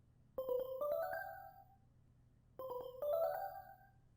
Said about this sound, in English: we have this kind of like cool xylophone pattern right here that's going to sound like this